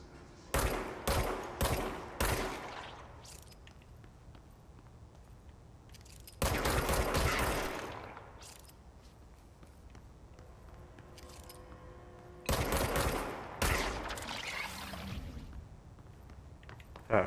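Gunfire in the video game Control comes in loud, rapid bursts of shots, with quieter stretches of game ambience between the volleys.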